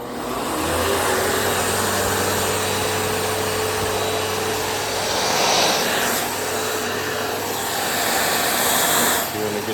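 Vacuum cleaner fitted with a long edge extension runs continuously, a close, loud whining drone with a steady motor hum and slight shifts in pitch as suction changes along the edges.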